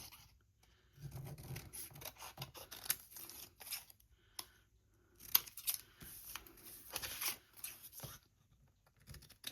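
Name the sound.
scissors cutting stamped paper between the rows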